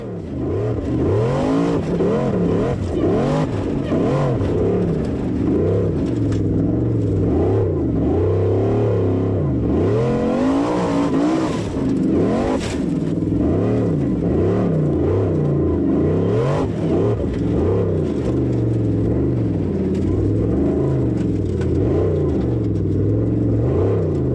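A formula offroad car on an onboard time attack run at Hella, Iceland, its engine loud and close throughout, constantly revving up and down as it accelerates and backs off over rough terrain.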